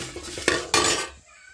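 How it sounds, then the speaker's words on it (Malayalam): Brown flattened rice being stirred in an aluminium pot, with two close, loud scraping clatters of the utensil against the metal in quick succession, then a quick fade to quiet. "ഇത് അലുമിനിയത്തിൻ്റെ പാത്രം ആയതുകൊണ്ട് തന്നെ അടിച്ചു പിടിക്കും, അതുകൊണ്ട് നമ്മളിങ്ങനെ ഇളക്കിക്കൊണ്ടേയിരിക്കും"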